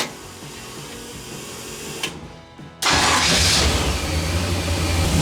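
LS1 V8 engine in a Toyoace Mini Mog truck, idling roughly, dipping and faltering, then revving up sharply to a loud, steady held throttle roar close by.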